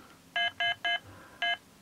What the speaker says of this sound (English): Keypad tones on, keypad tones off. So that would be the beep that you hear.